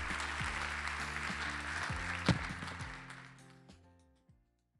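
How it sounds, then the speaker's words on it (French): Audience applause at the Prix Moustaki 2021 music award show, a dense crowd clapping that fades away over several seconds while sustained musical tones ring underneath. "On peut encore l'applaudir"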